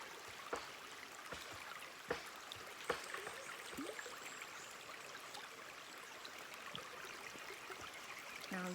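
Stream water flowing near a mountaintop: a steady, soft broadband rush with scattered small splashes and clicks, fairly faint and continuous throughout, with no talking.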